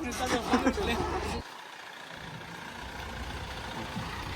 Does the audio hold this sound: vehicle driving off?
yes